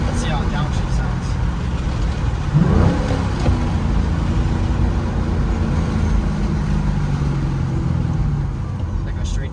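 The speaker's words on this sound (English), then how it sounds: "Let's see how downshift sounds." A 2005-2009 Ford Mustang GT with a Corsa Extreme black-tip axle-back exhaust downshifts: a steady loud exhaust drone, then a sharp rev blip that rises and settles back into a throaty cruise.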